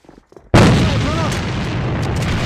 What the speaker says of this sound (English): Бросаю гранату!